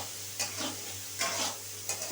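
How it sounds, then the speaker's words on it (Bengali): Marinated soya chunks fry in hot oil, a steady soft sizzle broken by three short bursts of stirring scrapes in the pan, close and fairly quiet, with no voices. "আমি আলু ভাজার তেলেই সয়াবিনগুলো ভালোভাবে একটু ফ্রাই করে নিতে হবে, যাতে সয়াবিনগুলো খুব সুন্দর করে খাস্তাভাবে ভাজা হয়ে যায়"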